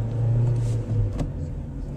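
A manual-transmission car accelerating in first gear, its engine note droning steadily and close with a low rumbling hum and a brief swell in the middle.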